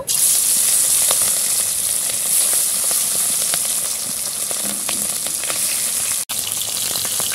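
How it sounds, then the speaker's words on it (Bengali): Pieces of katla fish, rubbed with salt and turmeric, fry in hot mustard oil in a kadai, giving a loud, constant hissing sizzle with faint popping and occasional stirring, and no voices. "তেল গরম হয়ে গেছে, এবার মাছগুলো ভেজে নেব।"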